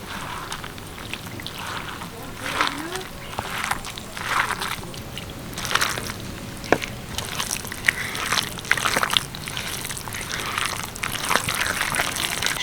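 Thick veg paratha batter seasoned with garam masala and salt is worked by hand as water goes in little by little, giving wet sloshing and squelching bursts that come and go at close range.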